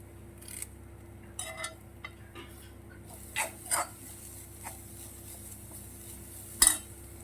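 A utensil stirs fennel seeds and curry leaves roasting in a pan for a breadfruit masala curry, giving sparse scraping taps and clicks over a low, steady background hum.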